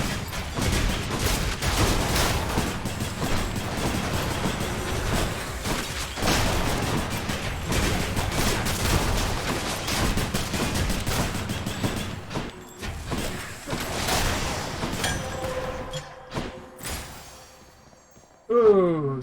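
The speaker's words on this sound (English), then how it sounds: "So now I fire ice bullets and doom bombs." Ice bullets and doom bombs fired in the action video game Hades, a dense, continuous barrage of shots and booms with music, mostly loud and steady, tapering off near the end with a short burst at the close.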